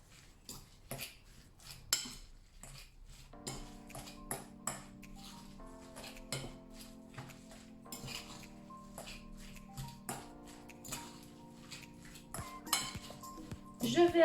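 Tuna croquette mixture with parsley and seasoning being mixed in a bowl, giving repeated clinks and scrapes of a utensil against the dish in an irregular rhythm, close and fairly quiet, over soft background music.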